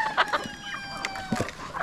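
Farmyard chickens cluck in short bursts while a rooster sounds among them nearby, the calls loud and close with no talk.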